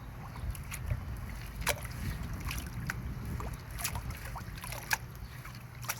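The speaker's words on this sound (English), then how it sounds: "Now I'm just going to start washing." Water sloshes and trickles softly as paydirt is washed in a gold pan over a tote, with quiet swirling and occasional faint clinks and splashes close by.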